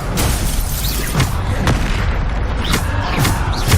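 The Bombarda explosion spell in the video game Hogwarts Legacy sets off loud, dense blasts and rumbling booms in a continuous barrage, with sharp cracking bursts layered through a heavy low roar.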